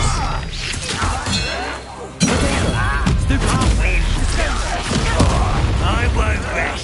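Confringo blasting spell bursting with crashes and booms during a Hogwarts Legacy duel, loud and dense amid other spell effects and a voice shouting, a sharp hit near the two-second mark.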